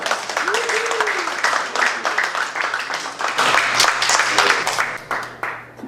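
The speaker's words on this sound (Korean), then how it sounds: "노래와 같은 박수 부탁드리겠습니다." Applause from a study-meeting audience welcoming a chairman, a dense steady clapping that fills the room throughout, with a voice heard briefly near the start.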